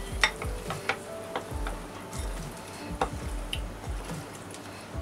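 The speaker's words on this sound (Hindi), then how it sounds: "अच्छे से मिक्स करूंगी" A spoon stirs rava idli batter right after Eno is added, giving soft, irregular scraping and clicking strokes close by, faint and steady with no talk.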